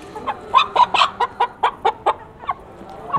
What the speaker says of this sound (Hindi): असील मुर्गी है ये प्यारी सी।